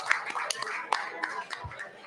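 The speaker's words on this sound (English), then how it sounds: "Give yourselves a round of applause here." A crowd at a live show claps in a short burst of applause, with distinct sharp hand claps over a busy background of voices and cheering.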